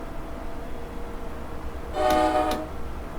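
Train horn in Train Simulator Classic on the North Jersey Shore and Morristown line, sounding one steady, loud blast of about half a second over a low, continuous rumble of the cab and rails.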